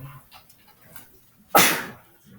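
A single loud, sharp sneeze bursts out in a classroom during a math review lesson, standing out clearly against faint background talk.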